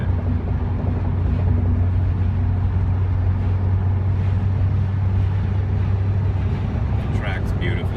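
Porsche 944 cruising steadily in fifth gear on a road, a low continuous engine drone with road and wind noise throughout, someone talking over it.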